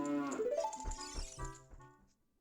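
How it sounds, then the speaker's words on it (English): A cow moos inside a house in Zelda Ocarina of Time, one drawn-out, rising low call followed by a few softer, shorter grunts and rustles as it tails off. "Guess these people have a cow inside their house."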